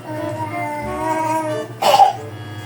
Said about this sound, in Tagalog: kapag narinig niya ako na ganito, tingnan niyo, umiiyak siya